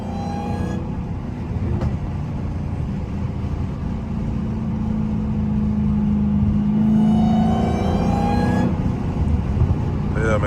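Inside a 900 hp Dodge Hellcat, a steady loud engine rumble carries a supercharger whine, with faint rising whining tones partway through and no break in the drone.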